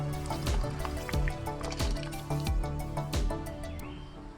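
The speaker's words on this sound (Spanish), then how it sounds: "Vamos a agregar un poco de agua." Water poured onto soil in a pot during guava air-layering, heard as a run of splashy drips and gurgling trickles in uneven bursts, close up and fairly loud, with no talk.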